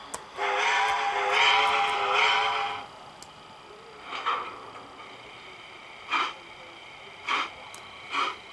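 A steam locomotive whistle gives one long, loud blast, followed by several short, fainter toots spaced apart, heard alone without talk.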